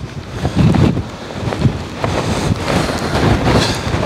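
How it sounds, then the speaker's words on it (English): Strong storm wind of 40 mph gusts buffets backpacking tents, a dense continuous roar with surging, pulsing gusts and microphone buffeting, loud and close throughout with no voices. "40 mile an hour winds, guys"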